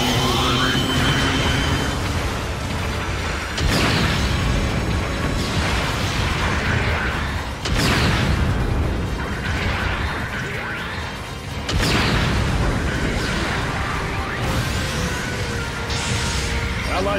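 Heavy artillery shells crash down in Gundam Battle Operation 2, four loud booming impacts spaced a few seconds apart over a constant roar of battle, close and dense.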